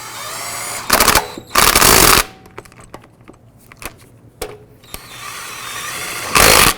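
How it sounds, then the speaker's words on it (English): A power tool snugs the lug nuts on a 2004-2009 Dodge Durango wheel, firing in three short, loud bursts, with light clicks and handling noises between them. "Then we're going to go ahead and snug up the lug nuts."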